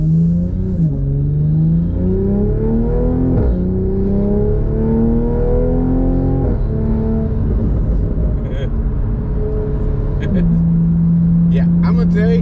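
A tuned 2020 Toyota GR Supra accelerates on a wet road, its engine note climbing through several gear changes with pops and crackles from the exhaust. Engine and road noise stay loud and steady throughout, with talk from the cabin mixed in.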